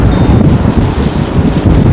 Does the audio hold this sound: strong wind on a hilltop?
yes